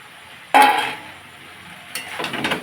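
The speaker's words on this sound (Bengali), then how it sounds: "এখন একটু নেড়ে দেবো।" A spatula or spoon stirring a pan of puti fish curry with ivy gourd and brinjal, giving two short bursts of scraping and clinking against the metal pan, close and fairly loud, with a quiet pause between them.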